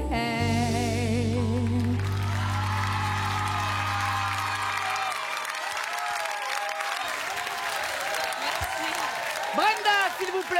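Studio audience applause on a French TV talent show for children, starting after a sustained sung note and music ending, a steady broad clapping wash with some cheering that continues under talk.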